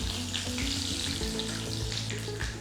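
Mustard seeds, a few fenugreek seeds, green chillies and curry leaves sautéing in oil for a mustard mango pickle: a loud, close, continuous crackling sizzle with no voice over it.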